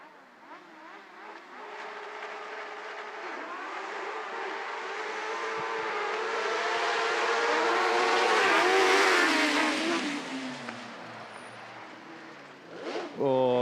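Autograss race cars roar around a dirt track in a British series race, engines swelling from distant to near and peaking loudly before fading, with a commentator talking over the engine noise.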